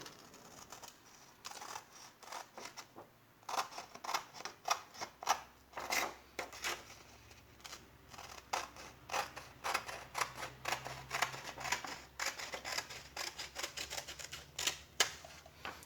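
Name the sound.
cutting a steel sheet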